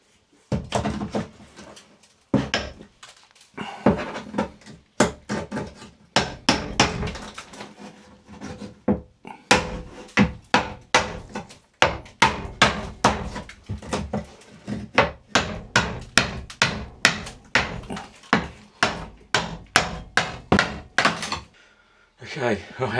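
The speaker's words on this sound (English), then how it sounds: "So let's crack on and try and get these tiles off." Old tiles are hammered off a bathroom wall inside a small boat, with dense irregular bursts of loud, close knocks and cracking thuds that run almost without pause throughout.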